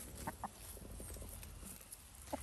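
Backyard chickens outdoors, giving a few short, soft clucks at a moderate distance over low, steady outdoor background noise.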